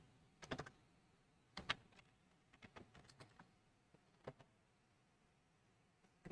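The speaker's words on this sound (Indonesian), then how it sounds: "Saya ketik ENA, kemudian config terminal." Sparse keystrokes on a computer keyboard as commands are typed into a router terminal, heard as scattered clicks and short bursts with pauses between, close and quiet.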